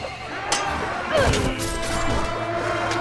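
A horse whinnies once amid clashing combat in the medieval battle game Mount & Blade Warband, with a heavy crash and thuds around it over a constant battlefield din.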